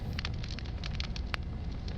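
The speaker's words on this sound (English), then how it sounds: "Yeah, well, the car's on fire. The flames are crackling." A burning car gives off a steady crackle over a dense, even roar of flames, with scattered sharp pops and snaps throughout.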